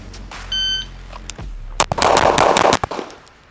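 A shot timer's electronic beep, then a quick string of pistol shots fired close by, several sharp reports in rapid rhythm with a brief pause near the end.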